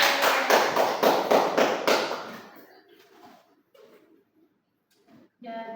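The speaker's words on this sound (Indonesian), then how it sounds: "tepuk tangan." Children clapping together in a classroom, a loud burst of rhythmic applause lasting a couple of seconds that fades out, followed by scattered quiet sounds and a brief noise at the end.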